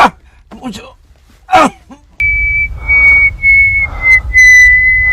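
A few breathy vocal groans and moans, then a long, steady high whistle that holds one pitch for several seconds over a low rumble.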